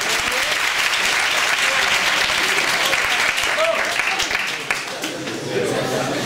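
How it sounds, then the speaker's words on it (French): Dense audience applause in a hall, loud and sustained, with crowd chatter and a voice mixed in before it starts to ease near the end. "je vous propose un tonnerre d'applaudissements pour ces techniques de drague plutôt douteuses"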